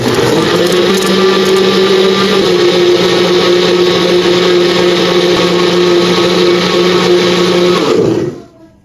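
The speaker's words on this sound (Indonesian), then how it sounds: "ini akan saya blender sampai betul-betul halus" Electric kitchen blender running continuously at high speed, blending UHT full cream milk with water until smooth; a loud, steady whirring drone that holds for about eight seconds before cutting off abruptly.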